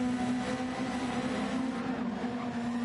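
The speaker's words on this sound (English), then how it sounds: "Some tyres from somewhere." Tyre squeal from a GT2 racing car in a sim racing game at the Deep Forest circuit, a sustained tonal screech over continuous engine drone, fairly faint.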